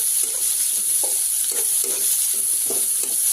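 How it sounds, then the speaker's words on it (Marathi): Onion sautés in a pan for mung dal amti, a steady hiss of sizzling oil broken by soft, regular scrapes and clinks of stirring. "त्याच्यामध्ये आपण कांदा चांगला परतून घेऊया कांदा चांगला भाजून घेऊया"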